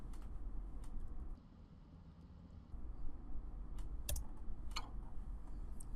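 Computer keyboard typing of search keywords, faint scattered key clicks over a low room hum, irregular and sparse, with a brief quieter stretch partway through.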